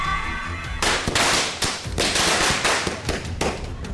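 Firecrackers crackle and burst in a dense, continuous volley during Diwali celebrations in Mumbai, loud and close, with rapid overlapping pops and bangs and no pause.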